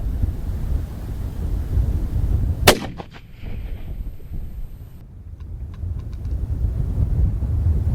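A single sharp, loud report from a .308 rifle in an MDT ACC chassis, fired at a long-range target about 1976 yards away, cuts through steady outdoor wind rumble and is followed by a brief echoing tail.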